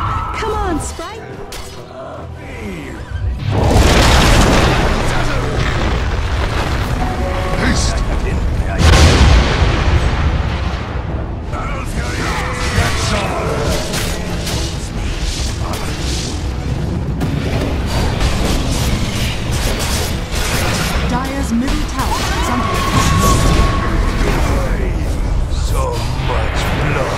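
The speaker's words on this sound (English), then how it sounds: "Dire's bottom tower is under attack." Dota 2 match with Bloodseeker, Dire's bottom tower under attack: a dense, continuous battle din of booming spell impacts and clashing effects, loud throughout with a big surge near the start, while a voice talks over it.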